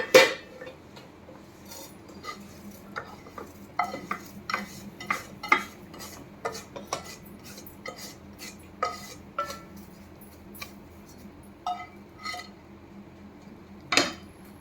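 Fried semolina (rava) for laddus is scraped from a pan into a bowl, with a close series of irregular metal clinks and scrapes of a spoon against cookware over a faint sizzle, and no voices.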